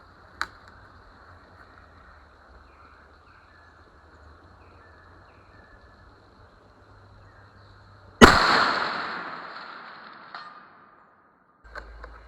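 A Tikka Super Varmint .308 rifle fires one loud, sharp shot with a long rolling echo that trails off over a couple of seconds, preceded by faint ambient hum and a small click, with another sound starting at the end.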